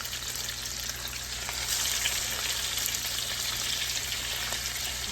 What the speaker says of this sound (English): our oil is not real hot, but I'm going to go ahead and add the salmon in.